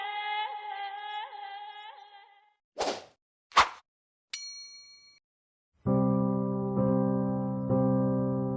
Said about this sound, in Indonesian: Pada saat ini ponsel Margaret yang ada di atas meja berdering.